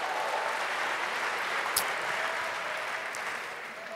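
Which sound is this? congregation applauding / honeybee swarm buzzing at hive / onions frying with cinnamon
congregation applauding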